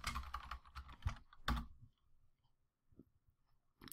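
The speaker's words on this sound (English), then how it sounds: "So I'm going to write activate root." Keystrokes clatter rapidly on a computer keyboard as a command is typed, a dense burst of close clicks in the first two seconds, then scattered quieter taps in a hushed room.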